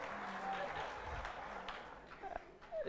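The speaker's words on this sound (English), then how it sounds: "Please clap for the partners, especially you, the fellows." An audience applauds at a media fellowship graduation ceremony, steady clapping that holds at moderate level for a few seconds with voices mixed in.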